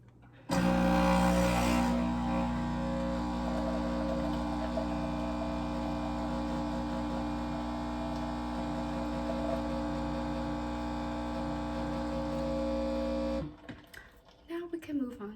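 A Nespresso machine brews a shot on its middle espresso setting, giving a loud, steady mechanical pump hum with a low drone that runs unbroken for about thirteen seconds and then cuts off.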